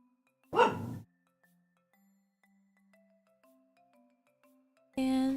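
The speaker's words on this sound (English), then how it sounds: "I don't know what she's barking at." A dog barks twice, a short loud bark and then another after a pause of a few seconds, with faint tonal sounds between them.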